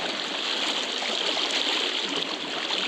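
Strong river water rushes and churns at Sangama, a loud, close, unbroken hiss of flowing current with no pauses.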